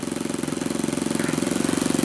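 A Magnum XL 15cc model airplane engine, mounted in a Goldberg Ultimate 10-300 biplane, idles close by with a steady, fast, even pulsing chug that stays loud throughout.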